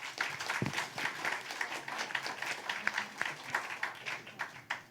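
Conference audience at a philanthropy summit panel session applauding the panelists, continuous and fairly faint, heard from a distance without talk.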